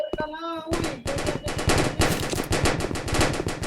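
Gunfire in the Roblox video game rattles in fast, loud, continuous bursts after a brief tonal game sound, the dense rapid reports filling the whole stretch without pause.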